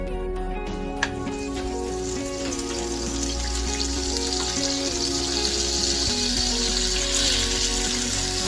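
A tablespoon of butter sizzles in melted sugar for butterscotch, a loud continuous frying hiss with crackling pops close to the pan.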